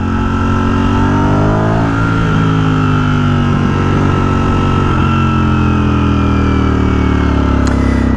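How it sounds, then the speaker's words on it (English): A 2023 Ducati Streetfighter V4S downshifts with a sharp throttle blip, its loud engine note dropping then rising in pitch close to the rider, a continuous roar throughout. "Brilliant downshift, man."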